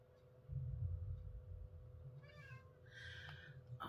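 A house cat meows indoors, giving two or three short, fairly faint calls near the end over a quiet room hum and a soft low rumble.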